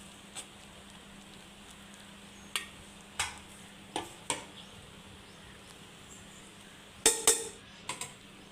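Onion-and-egg sambar with drumstick, okra and brinjal pieces boiling in a pot: sparse, sharp bubbling pops at irregular intervals over a faint, steady background hum.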